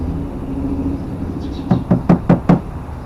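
A latex-dipped mold for a homemade rubber frog lure is knocked five times in quick, evenly spaced succession to shake off drips, close and sharp over a low background hum.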